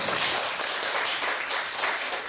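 Worshippers at a church healing revival service clap together: a thick, continuous wash of many hands, loud and close with no break, and no voices.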